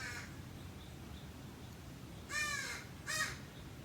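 Crows call outdoors: a faint caw at the start, then two louder, closer harsh caws in quick succession near the end over quiet background noise.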